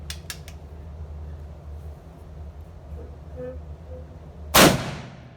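A single subsonic 45-70 round fired from a Shiloh Sharps rifle cracks sharply near the end of the clip and decays quickly, over a steady low mechanical hum.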